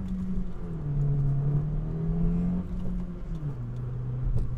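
A 2017 Honda Civic Si pulls hard in a roll-on acceleration, its engine note climbing and holding in a steady drone heard from inside the car, with road rumble underneath.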